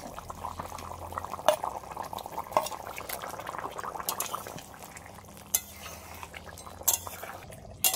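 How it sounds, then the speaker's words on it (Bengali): Fried rohu fish pieces go into a simmering potato and pointed gourd curry, with steady bubbling and liquid churning, a few clinks of a utensil against the pot, no talk. "এবার আমি দিয়ে দেবো ভেজে রাখা মাছ"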